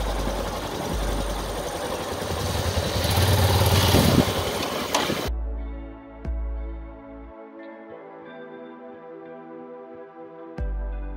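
A Yamaha Tenere motorcycle engine idles with a steady low rumble after the bike fell into water and was partly submerged, following a noisy, rushing stretch at the start, with a few sharp clicks along the way.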